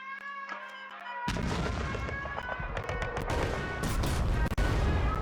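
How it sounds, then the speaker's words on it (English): Artillery bombardment in the KARDS card game, a loud sustained barrage of booming blasts and rapid gunfire that begins after a second of quieter ambient tones and keeps rolling for several seconds. "and we are going to be now bombarding him"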